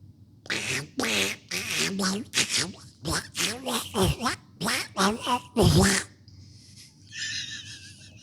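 A person's voice imitates Donald Duck, a run of nasal, raspy quacking syllables in quick bursts, close and loud, then fading into quieter noise.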